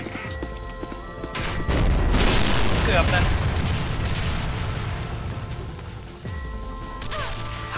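A heavy cannon boom and crashing burst of a barrier breaking erupt mid-clip in the video game Banzai Escape, loud and rumbling, with game sounds and a voice speaking before and after.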